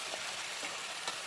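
Meat frying in a pan, an even, dense hiss of sizzling with a few faint stirring scrapes, heard close and alone.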